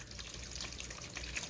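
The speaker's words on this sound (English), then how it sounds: "drain the water off" Rinse water draining off a catch pan of ash from incinerated IC chips during gold recovery, a steady soft trickle and drip of water, faint and continuous with no voices.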